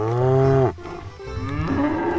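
Contest cattle being loaded onto a truck give a long, loud, low moo, then further lowing and bellowing follows over a busy outdoor background.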